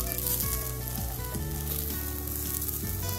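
Aloo balls pan-frying in a little oil give a steady, close sizzle throughout, with faint tonal squeaks from the pan and no voices.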